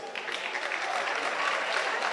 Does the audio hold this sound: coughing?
no